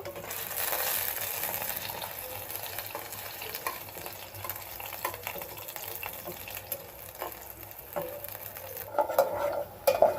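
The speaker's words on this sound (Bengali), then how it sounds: "তো আলুটা ভাজতেছি" Potatoes fry in a pan for a beef biryani, giving a steady crackling sizzle mixed with stirring scrapes and the occasional clink of a pot, louder bursts near the end.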